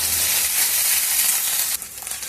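Ginger garlic paste, cumin, coriander, green and dried chilli and tomato fry in a pan, giving a loud, steady close sizzle that drops suddenly near the end as the mix settles, with no talk.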